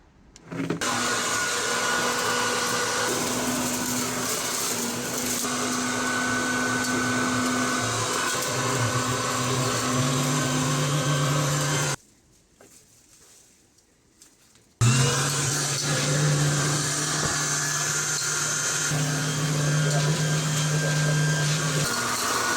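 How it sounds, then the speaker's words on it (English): A leaf blower clearing leaves gives a loud, steady motor roar with a constant whine. It runs close for about twelve seconds, drops away for roughly three, then starts again just as strongly, with no talking. "But I'll see how much I can get done with the blower and load it all in bags now."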